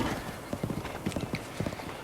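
Horse hooves clip-clopping in the video game Zelda: Breath of the Wild, a steady trotting rhythm of close, distinct hoof strikes on the ground, heard alone.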